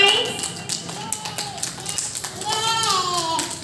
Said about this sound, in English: Clap for everyone. Clap.